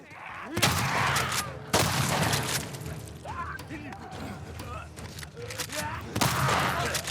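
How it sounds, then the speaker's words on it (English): Heavy shotgun blasts in The Last of Us Part II Remastered on PS5, with a few loud booming shots spaced several seconds apart among mechanical clatter and game noise; a voice talks quietly underneath. "Again, just using the shotgun here, trying to keep them off of me."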